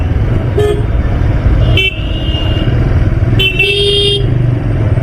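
Vehicle horns toot in dense road traffic during a motorcycle ride: several short, loud, close honks, three or four separate blasts, over a constant rumble of engines.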